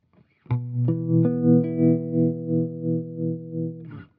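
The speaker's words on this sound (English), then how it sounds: "Has more of that bias tremolo type sound to me." A sustained distorted electric guitar chord through a Cusack Tremolo pedal pulses steadily in volume, a smooth bias-tremolo-style throb repeating about twice per second until it cuts off.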